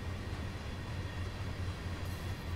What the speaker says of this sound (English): I'm just excited the train's moving.